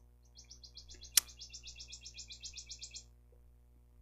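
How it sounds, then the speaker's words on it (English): Loud bird calling outside a window: a rapid run of about twenty bright, evenly spaced chirps over roughly three seconds, with a sharp click near the start and a steady low hum underneath. "a very loud bird outside the window here"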